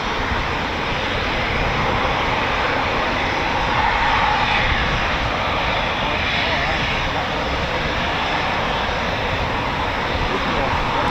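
A Eurofighter Typhoon FGR4 jet at RAF Coningsby gives off a steady, loud, broadband engine roar that holds at a constant level for the whole stretch, with no clear breaks.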